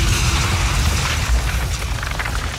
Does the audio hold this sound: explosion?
yes